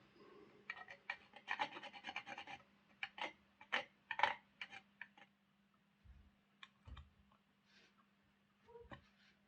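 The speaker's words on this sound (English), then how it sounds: "So we'll see if we can just file this down." Filing down hardened epoxy on a Hornby A4 Class Mallard model locomotive tender: close, irregular bursts of dry rasping strokes, clustered at first and then sparser, with quiet gaps and a steady low hum underneath.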